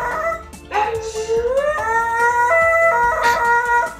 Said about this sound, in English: my dog out here sounding like he's connecting to dial up